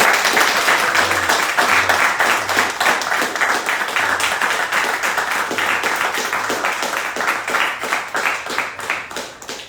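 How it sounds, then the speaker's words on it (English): Audience members at a gallery artist talk clap for the host, a close, steady patter of many hands that gradually softens over about ten seconds. "Can we give our lovely host a round of applause?"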